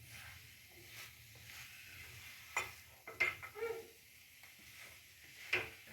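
Potatoes with spices being stirred in a frying pan for aloo tama, with soft scraping strokes and a few sharper clinks of the spoon against the pan over a low, steady sizzle.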